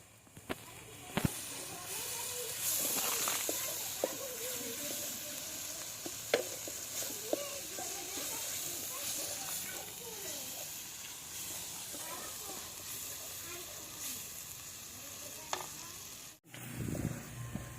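Ginger and spices sizzling and frying in a pan, a steady crackling hiss punctuated by scraping stirs and clatters, with a voice talking over it.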